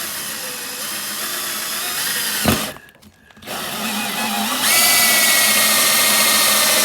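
A power drill bores a hole through a motorhome wall: a loud, steady whine that breaks off briefly, then resumes at a higher, harsher pitch as the bit cuts on.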